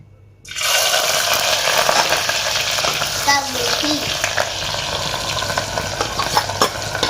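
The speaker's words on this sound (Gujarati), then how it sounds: "હવે નાખી દઈએ ડુંગળી" Sliced onions hit hot oil in a pot for Gujarati-style matka pulao, setting off a sudden loud, steady sizzle that holds throughout with faint stirring clatter and no talk.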